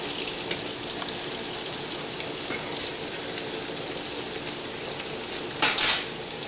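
Mushrooms and onions sizzle and crackle in butter in a pan, a steady close frying hiss with occasional stirring clicks and a louder scrape near the end.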